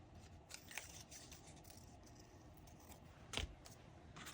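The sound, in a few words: scissors cutting paper for a journal page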